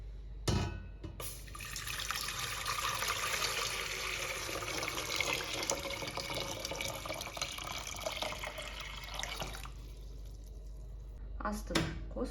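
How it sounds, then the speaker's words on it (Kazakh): Filtered water pours steadily into a kitchen pot for compote, a continuous close splashing rush lasting most of the clip, with brief handling clatter at the start and end. "Одан соң фильтрдан алынған су"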